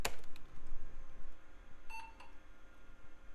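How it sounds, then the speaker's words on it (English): A brief electronic beep from a mid-2000s budget computer at startup that stutters into two quick tonal blips, heard over a faint background hum, with no speech. "It's funny, that beep has a stutter."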